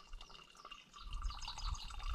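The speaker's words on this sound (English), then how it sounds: "You just fill the bag up with water" Water pours and gurgles into a filter bag being filled in a hot summer outdoor survival setting, a soft trickle that swells into a louder, fuller rushing splash partway through.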